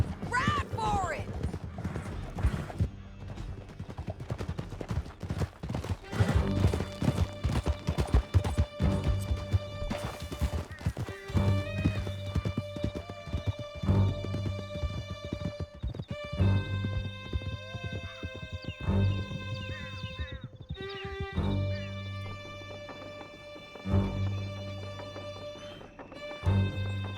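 Hooves clatter at a steady gallop as horses race through a canyon in Red Dead Redemption 2, a Western game, with crashes and a musical score swelling over the loud, rhythmic pounding and voices calling out.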